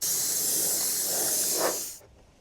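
Chrome spray paint hisses from an aerosol can onto an RC car body in one steady, close burst of about two seconds, then cuts off sharply, with no voices.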